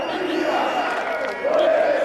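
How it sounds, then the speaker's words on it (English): A street protest crowd shouts and cheers together, a dense mass of voices rising and falling over a couple of seconds at moderate distance. "This is the sound of street protest that took place 3 months ago to the day"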